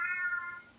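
An old cat gives a single clear meow in the background, a moderately loud tonal cry that trails off within a second.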